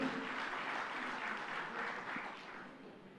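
An audience applauds at an inauguration event for the NasDem Tower, a dense, even clatter of many hands clapping at moderate distance that tapers slightly toward the end, with no voices over it.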